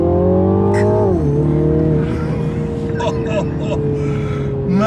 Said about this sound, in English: We're driving a Mini Clubman JCW, Mini's most powerful ever car.